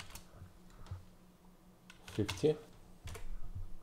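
Several quick computer keyboard keystrokes while typing an expression in After Effects, faint and close, clustered in a short burst between quiet talk.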